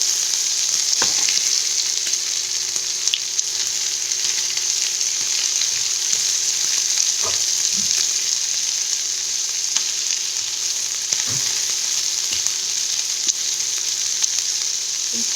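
Onions sauté in a pan for a creamy paneer malai kofta gravy, giving a loud, steady sizzle that holds throughout, with a few soft scrapes of stirring and no voices.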